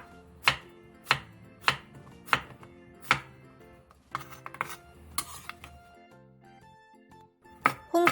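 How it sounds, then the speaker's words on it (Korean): Knife chopping zucchini into large chunks on a cutting board: five sharp, evenly spaced thuds near the start, then looser scattered knocks and clinks, close and clear with no voices. "호박을 길게 반으로 갈라 먹기 좋은 크기로 큼직하게 잘라주세요"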